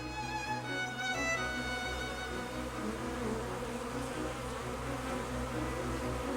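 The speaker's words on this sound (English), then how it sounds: "While the bee is gathering nectar, pollen collects on the small hairs of its body." A honey bee gathering nectar gives a steady, close insect buzz with a high whine that wavers and holds throughout, fairly faint and with no voices.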